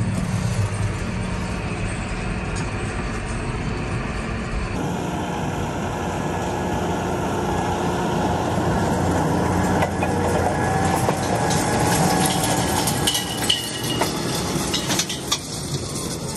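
Tractor working a rough grass field before seeding, a steady loud engine drone running throughout with a rattling, rumbling texture and no talk.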